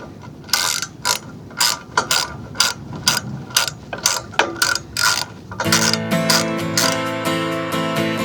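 A hand ratchet tightens a nylon lock nut on a Prinsu roof rack on a RAV4, sharp repeated clicking bursts in quick strokes, then a denser continuous run of clicks at the end, close and loud.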